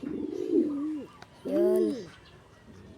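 Pigeons coo close by in a deep, throaty pair of calls, the second richer and more resonant, with a soft murmur in the background.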